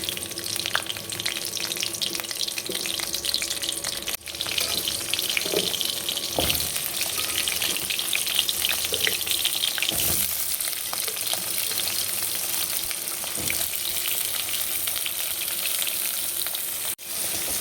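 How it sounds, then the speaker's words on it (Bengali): Whole cumin seeds and potatoes frying in hot oil give a steady, close sizzle with occasional faint clinks and stirring, and no voices over it. "দিয়ে দিলাম একটু গোটা জিরে, এরপরে আলুটা ছেড়ে দেব।"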